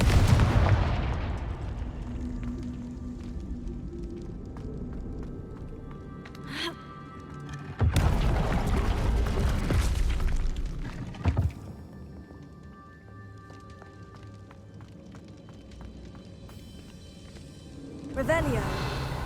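In the video game Hogwarts Legacy, Confringo fire spells go off as loud, booming blasts, with a few heavy bursts spread across the stretch and rumbling tails between them, mixed with game sounds and a shouting voice.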